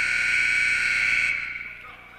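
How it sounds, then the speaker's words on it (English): A long electronic buzzer sounds at a youth U12 AAU basketball game, a loud steady tone that holds for over a second and then cuts off, leaving faint gym noise. "that's a long buzzer"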